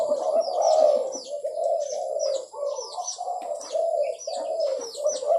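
A pet dove coos close by in a steady run of soft, throaty, rolling calls, each lasting about half a second, with faint chirps from other birds behind.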